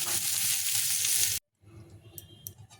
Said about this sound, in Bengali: পেঁয়াজটা ভেজে নিয়ে একটু লাল করে তারপর মশলাগুলো দেবো সব